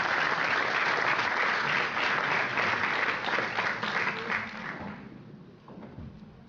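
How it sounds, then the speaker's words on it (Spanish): Audience applause at a scientific merit award ceremony at a university, a dense steady clapping from a sizable crowd that holds strong for several seconds and then thins and fades out. "recibamos fuertes aplausos para nuestro profesor"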